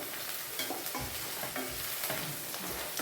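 Sliced okra fries in hot oil as a continuous sizzle, with scraping stirs from a spoon breaking through at irregular moments, close and fairly loud with no voices.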